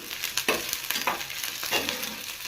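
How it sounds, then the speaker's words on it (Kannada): Small onions frying in hot oil, a close crackling sizzle with a few louder spits and stirring sounds across the short span. "ಎಣ್ಣೆ ಕಾದ ನಂತರ ಈರುಳ್ಳಿ ಹಾಕ್ಕೊಂಡು ಫ್ರೈ ಮಾಡ್ಕೋಬೇಕು"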